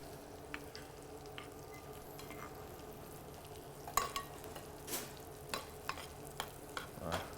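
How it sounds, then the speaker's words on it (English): Foamy butter sizzles steadily in a pan as it is basted over pike perch from Lago Maggiore, a soft continuous frying hiss broken by small spoon clinks and stirring taps, with no talk. "we start like basting the butter over the pike perch"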